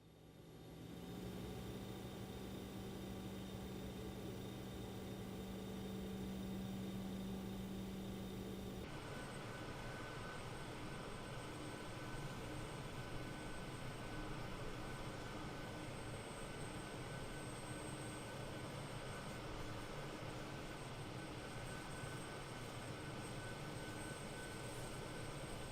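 An Avro RJ85 airliner taxis in a flight simulator, with a steady, continuous jet engine whine and rumble heard from the cockpit. A low hum partway through drops away, leaving a broader, even engine roar.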